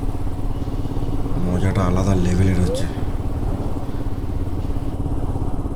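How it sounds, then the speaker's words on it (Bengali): A motorcycle engine drones steadily while the bike climbs a hill on the road to Ayodhya Pahar in Purulia, with a rider speaking briefly over the engine noise. "বাইক নিয়ে পাহাড়ে উঠছি"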